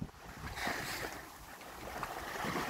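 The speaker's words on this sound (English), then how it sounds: "water splashing under the rocks like that." Sea water surging and splashing beneath rocks on Abaco in high wind, a broad continuous wash of surf with gusty wind buffeting the microphone, fairly close and unbroken with no talking.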